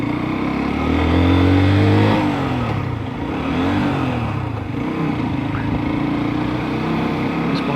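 A motorcycle engine revs loudly and close by near a harbour, its pitch sweeping up and back down over the first couple of seconds before settling into a steady, continuous drone.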